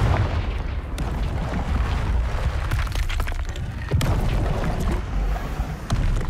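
A Confringo blasting spell in the Hogwarts Legacy video game erupts in a series of loud, booming explosive bursts over a constant rumbling din, with sharp blasts recurring every second or so.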